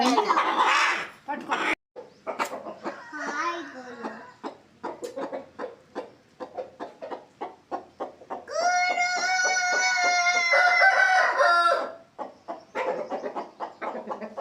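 Village chickens clucking in bursts, then a rooster's loud drawn-out crow near the middle, heard amid talking voices throughout.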